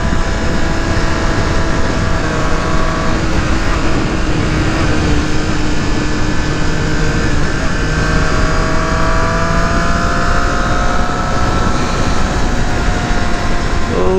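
Triumph Street Triple RS motorcycle (2018) cruising along a twisty country road, its engine a steady, continuous drone with heavy wind rush that stays loud and close throughout.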